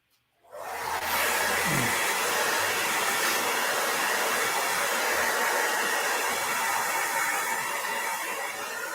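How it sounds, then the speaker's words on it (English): A hair dryer switches on and blows steadily at full power, a loud, even rushing hiss that holds without a break to the end. "let me take the blow dryer to this one more time"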